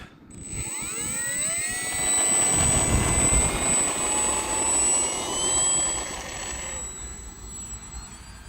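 An Arrows P-51 Mustang radio-controlled model plane takes off with a high, steady motor whine and rushing airflow, swelling louder and rumbling as it climbs, then fading slightly toward the end.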